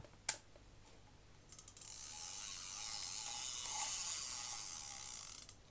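Daiwa Millionpower ST-9000RD fishing reel clicker: a sharp click, then a few seconds of fast continuous ratcheting buzz from the spool, close and fairly quiet.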